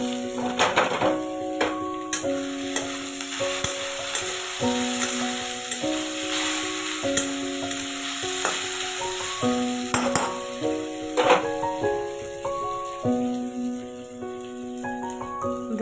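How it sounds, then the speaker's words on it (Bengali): Potatoes frying in oil in a pan for chow mein, a close steady sizzle with scattered crackles and pops, while instrumental music plays over it. "আলুটা লাল লাল করে ভেজে নেব"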